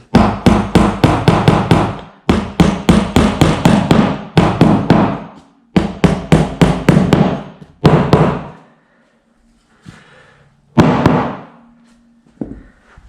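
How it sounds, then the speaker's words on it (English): Bursts of rapid, loud hammer strikes in quick rhythmic runs as pieces are hammered into an IKEA Kallax shelving unit, pausing briefly between sets, with a few single knocks near the end. "we're just going to hammer these in."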